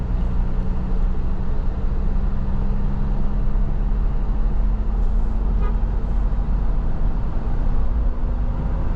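A new 2.2-litre diesel SUV cruises smoothly on the road. Steady low engine drone and road rumble fill the cabin at a constant, even level.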